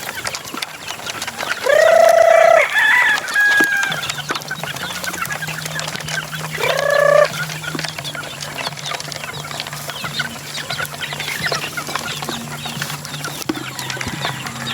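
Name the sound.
fighting-cock chicks clucking while being fed on a farm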